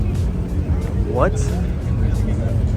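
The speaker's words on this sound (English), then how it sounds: "You guys hear that RX-7?" A Mazda RX-7 with a rotary engine runs at a busy car meet, its engine note blending with the rumble of nearby cars while people talk steadily over it.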